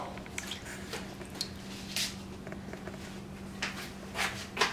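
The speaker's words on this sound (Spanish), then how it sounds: "Voy a terminar de sacar el agua." Water being poured and drained from a sealed sauerkraut fermentation pot after weeks of fermenting, with soft irregular drips, squishes and splashes close by, fairly quiet.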